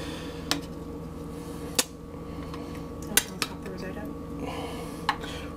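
Scallops are set on a plate, giving a few sharp clinks of cutlery and dishware spaced across a quiet kitchen background.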